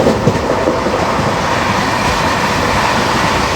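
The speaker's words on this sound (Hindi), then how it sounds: "Overtaking Chhattisgarh express." Train rolling past another train on an Indian Railways run, the Chhattisgarh Express being overtaken on a Bhopal to Hazrat Nizamuddin journey; steady, loud rumble of rail wheels and carriages with faint clickety-clack, continuous and close throughout.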